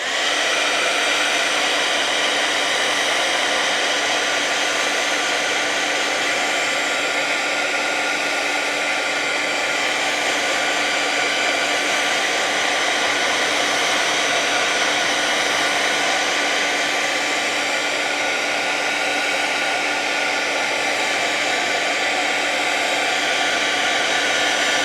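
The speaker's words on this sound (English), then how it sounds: "I'm going to use my heat tool, but I'm gonna make sure I keep the heat tool moving" A handheld heat tool blows in a continuous, loud, steady whoosh for about twenty-five seconds while setting gold embossing powder on a craft card, with no voices.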